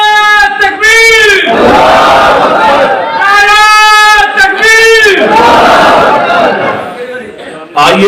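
A large gathering answers a takbir call with loud, sustained chanted shouts in unison, several long swelling waves of massed voices close and overpowering.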